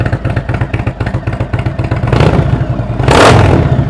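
Indian Roadmaster touring motorcycle with an upgraded exhaust, its engine idling with a steady low pulsing rumble, then swelling into two louder throttle blips near the end; no talking.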